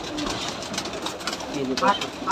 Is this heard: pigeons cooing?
yes